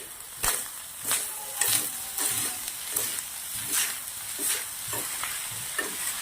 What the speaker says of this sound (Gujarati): હવે આપણે મિક્સ કરી દઈશું.